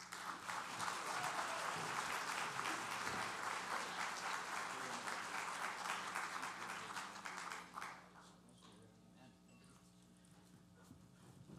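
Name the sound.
applause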